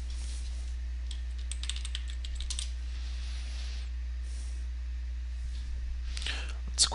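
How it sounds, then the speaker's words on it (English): Password being typed on a computer keyboard during a software install, soft scattered keystroke clicks in short bursts over a steady low hum, with a sharper cluster of taps near the end. "And type in your password."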